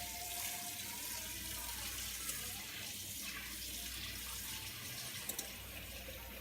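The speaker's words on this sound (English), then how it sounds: "I'm going to add the water in the same bowl that I had before" Tap water pours steadily into a cooking bowl in a kitchen, a continuous close splashing rush that runs for several seconds without talk.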